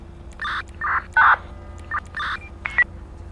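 A radio release sound from the Grammar Police mod in the LSPDFR police game plays as a series of short electronic beeps and tones in an uneven pattern, clean and close.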